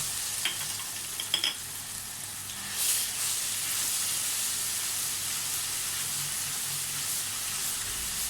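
Ginger garlic paste sizzles in hot mustard oil during cooking of a cauliflower and potato bhujia. A few clatters at the start give way to a steady, loud hiss of frying.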